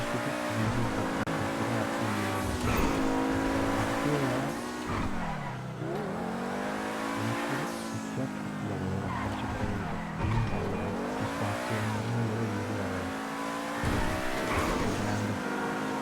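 Ubermacht SC1 sports car in GTA Online, its engine revving and droning continuously while tires squeal through turns, loud and steady for the whole stretch with no talk.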